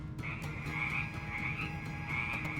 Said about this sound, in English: those are frogs. Those are frogs. It's a river of frogs.